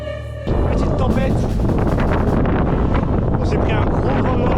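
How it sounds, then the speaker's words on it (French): Strong north wind in a storm on the Norwegian Sea roars across the microphone in a steady, rough buffeting, with the sea churning underneath. "On s'est pris un gros vent nord en pleine face."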